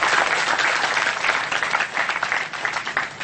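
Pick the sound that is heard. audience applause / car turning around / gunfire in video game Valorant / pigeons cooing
audience applause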